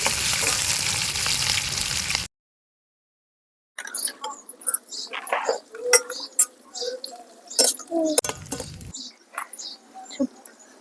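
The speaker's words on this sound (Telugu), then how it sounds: "ఉల్లిపాయలు వేసుకొని ఒక పచ్చిమిరపకాయలు వేసుకున్నాం. బాగా దూరం వేగినాక" Onions and green chillies sizzling in a pan, a loud hiss at first, then after a short gap quieter crackling with spoon and pan clinks for a drumstick tomato curry.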